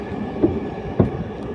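A metro rail train passes, heard from a small boat on the water: a brief, faint low rumble with a couple of soft thumps.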